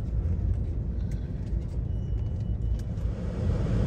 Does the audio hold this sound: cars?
yes